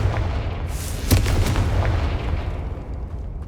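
A Confringo blasting spell in Hogwarts Legacy goes off in a single deep, booming explosion, a loud burst with a sharp crack and low rumble that fades away over a few seconds.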